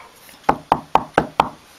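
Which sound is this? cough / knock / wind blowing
knock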